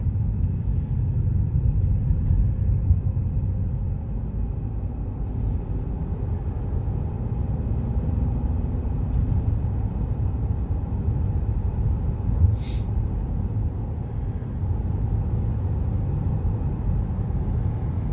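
Steady low road rumble from a car cruising along a widening road leaving Loch Lomond, a continuous drone with tyre noise and faint ticks, no voices.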